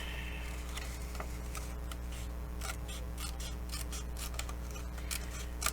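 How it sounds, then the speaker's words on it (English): Crisp snipping and rubbing strokes of scissors cutting paper along a line repeat in an irregular rhythm, close by, over a steady low hum, with no talking. "So I'm just going to use my scissors"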